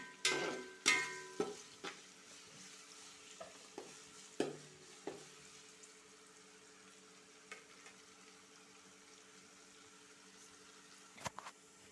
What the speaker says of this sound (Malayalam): സവാള നല്ലപോലെ വഴറ്റി കൊടുക്കണം